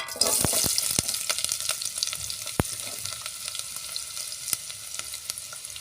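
Onions fry in oil with spices in a pot over a wood-fired stove, a continuous close sizzle broken by sharp clicks and scrapes of stirring.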